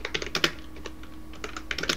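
Quick, irregular keystrokes clatter on a computer keyboard as an assembly instruction is typed, close and crisp, in bursts with short pauses.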